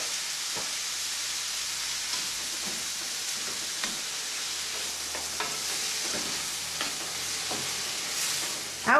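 Peeled, diced tomatoes and oregano sizzling in a hot pan, a continuous frying hiss with occasional stirring clicks and scrapes, close and steady, louder at the very end.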